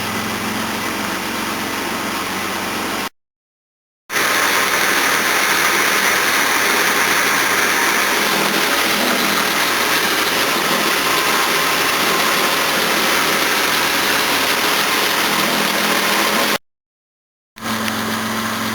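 A Jaguar XJ6 engine idles steadily while warming up, a continuous close mechanical hum with faint vibration and no talk, cut by two brief silent gaps.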